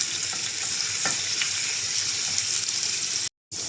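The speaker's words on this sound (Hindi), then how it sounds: "अदरक लहसुन के पेस्ट को 2 मिनट इसकी कच्ची स्मेल जाने तक भून लेंगे।" Ginger garlic paste fries in hot oil in a pan, giving a loud, steady hiss and crackle that runs without a break until a brief dropout near the end, with no talking.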